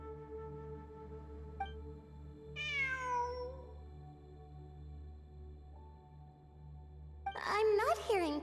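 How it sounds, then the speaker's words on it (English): A cat in the video game Genshin Impact meows twice, a sliding cry early on and a louder, more strained one at the end, over a steady low game hum and music. "I'm not hearing things. It really is a cat."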